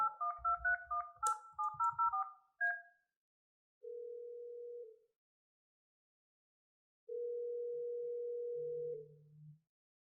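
Phone dialing: a quick run of about ten keypad beeps in an irregular rhythm, then a single steady tone, a pause, and a longer tone ending in a lower buzz, all clean and close with no talking.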